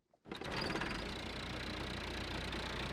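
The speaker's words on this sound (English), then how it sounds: "Listen to that engine." A Massey Ferguson tractor engine in a farming video game idles with a constant low mechanical hum and rattle, starting abruptly after a brief moment of near silence and continuing evenly.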